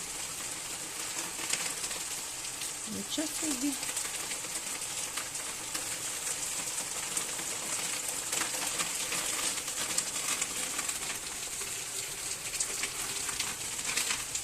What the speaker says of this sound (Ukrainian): і пустився дощ такий сильний